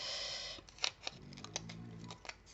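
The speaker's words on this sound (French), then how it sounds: "on va finir au ciseau" Paper being cut with scissors during a card embellishment craft, a run of short crisp snips and rustles at close range, irregular in rhythm, with faint handling noise in between and no talking.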